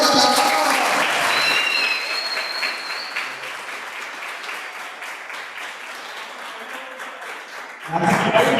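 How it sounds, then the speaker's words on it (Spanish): An audience at a public talk about Venezuela's national football team in Guayana claps loudly, then the applause thins and fades into a softer patter before a voice cuts in at the end. "un aplauso para nosotros"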